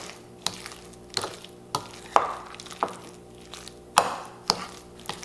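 A spoon working Spam and onions into hush puppy batter in a bowl, a steady rhythm of about nine sharp scraping knocks against the bowl, close and clear with no talking.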